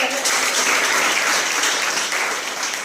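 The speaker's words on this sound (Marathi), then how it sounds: "मी सर्वांना विनंती करते की जोरदार टाळ्या वाजवा" A crowd claps loudly and steadily, the dense, continuous applause filling the whole moment.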